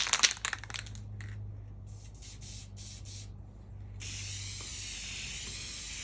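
Spray gun applying Mohawk pre-catalyzed sanding sealer onto a wooden guitar top, opening with a few sharp clicks, then bursts of airy hissing that stop and start before settling into a steadier spray over a low hum.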